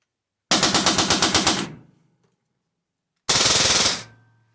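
Western Sidewinder and Hatsan Blitz air guns firing on full auto: a burst of about ten rapid, evenly spaced shots, a pause of over a second, then a shorter dense burst, loud and close with quick decay.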